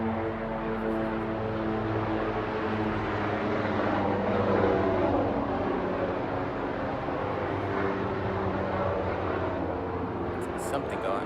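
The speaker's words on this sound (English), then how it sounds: "And I'll wait for the plane to fly away." An airplane passes overhead as a steady, broad engine drone that holds fairly loud for the whole stretch, with faint voices nearby.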